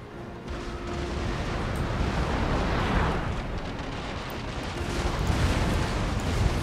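Naval cannon fire from sailing warships in Empire Total War rumbles as a continuous dense roar of distant shots blending together, steady and muffled throughout.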